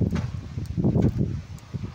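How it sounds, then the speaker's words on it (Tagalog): Gusty typhoon wind buffets the microphone in low, rumbling bursts, with a faint rustle over the top, in Angeles City, Pampanga, Philippines. "Umpisa ng lumakas yung hangin dito sa Angeles City."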